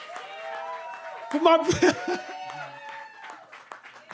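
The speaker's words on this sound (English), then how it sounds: "Round of applause, please." An audience breaks into a short burst of clapping and chuckling at a live event, peaking briefly then fading, with someone talking over it.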